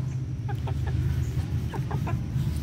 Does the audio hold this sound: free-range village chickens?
yes